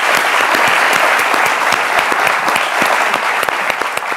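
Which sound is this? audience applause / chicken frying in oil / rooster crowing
audience applause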